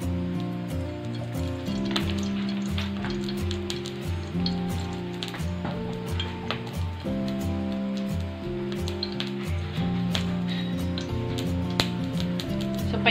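Oil heating in a wok before sauteing bitter gourd, a steady soft sizzle and crackle with a constant low hum running underneath, no voices.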